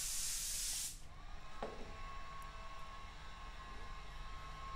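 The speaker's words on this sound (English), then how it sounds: "I'm spraying out a pan in metallic white coarse." A spray gun lays down light coats of metallic white coarse paint over white base coat sealer, with a loud, steady airy hiss for about a second before it cuts off, leaving faint room noise.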